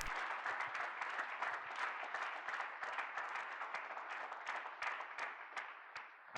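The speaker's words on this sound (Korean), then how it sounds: "큰 박수를 주십시오." Sustained applause from a church congregation at a healing service, dense steady clapping holding throughout with no break.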